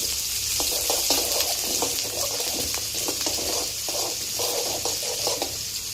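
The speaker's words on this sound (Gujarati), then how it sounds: "જીરું કકડી જાય પછી આપણે એમાં ડુંગળી નાખી દેવાની। ડુંગળીને કકડાવવાની।" Chopped onion frying in hot oil after cumin seeds have crackled, a loud continuous sizzle close up, broken by repeated stirring scrapes, with no voices.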